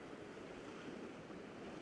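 Ocean waves roll in on a shoreline, a soft, steady wash of surf with light wind, faint and continuous with no voices.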